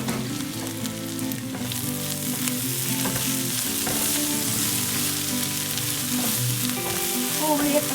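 Onions fry in a pan for a pork curry, a close, continuous sizzle and bubbling hiss with occasional stirring sounds, steady throughout and without talk.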